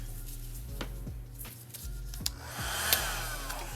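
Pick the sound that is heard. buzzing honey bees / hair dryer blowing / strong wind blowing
hair dryer blowing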